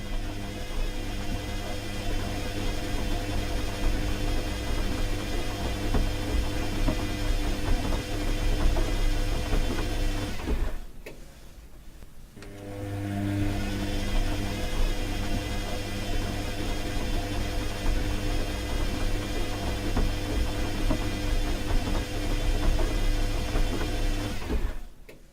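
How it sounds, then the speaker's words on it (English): A washing machine runs with a steady, loud mechanical churn and hum, dipping briefly in the middle before resuming at full level, with no talking. "And now the washing machine."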